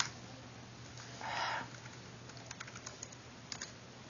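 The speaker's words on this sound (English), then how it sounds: "I'm doing that by just hitting F4" Computer keyboard key presses while working in a spreadsheet, a quiet run of light, evenly spaced taps close to the mic, with a brief soft rustle just before them.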